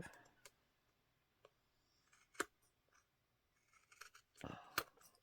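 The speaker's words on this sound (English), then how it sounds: "Okay, let me trim the other one." Scissors trim the edge of a thick journal card in a few quiet, separate snips, close up and soft against near silence, with a voice briefly audible.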